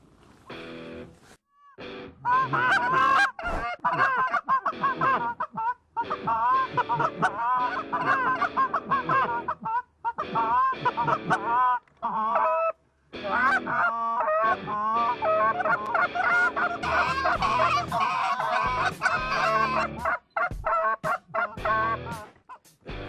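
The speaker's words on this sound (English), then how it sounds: "There's 5 geese in front." A flock of geese honks loudly and continuously nearby, overlapping calls rising and falling with brief pauses.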